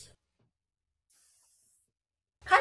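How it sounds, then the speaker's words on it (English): Bedhead Superstar Queen for a Day thickening hair spray gives one faint, short hiss of aerosol mist, sitting quietly between louder rustles and handling noises at the start and end. "Then I'll take a little bit of this Bedhead Superstar Queen for Day thickening spray."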